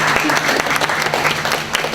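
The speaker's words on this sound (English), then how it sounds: "I think we should give Mr. Steve Collins a round of applause." An alumni event audience gives a round of applause, dense steady clapping from many hands filling the room for a couple of seconds.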